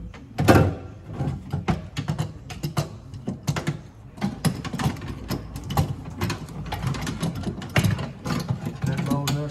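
A Chevy Impala window regulator assembly being slid and worked into the car door, a dense run of close metallic clicks, rattles and knocks in irregular bursts, with no voices.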